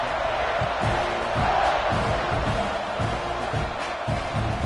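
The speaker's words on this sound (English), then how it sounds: "this crowd is buzzing after that last score" A football stadium crowd at a TCU at Texas A&M game buzzes loudly and continuously after a score, a dense roar of many voices with rising swells of cheering.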